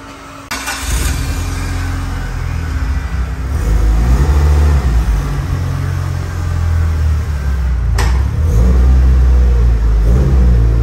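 Engine of a Mitsubishi Evo 9 on a dyno starts and builds into sustained loud revving, with a low rumble and a rising roar that climbs again near the end, close and with no voices.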